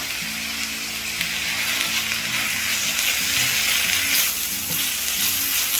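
Onions and tomatoes fry in a pan for a street-cart style kara chutney, giving a steady, loud sizzle with soft stirring scrapes throughout, no voices.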